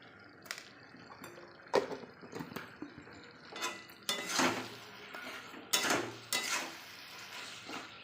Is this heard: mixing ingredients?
yes